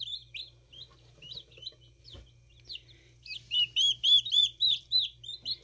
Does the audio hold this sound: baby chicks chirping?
yes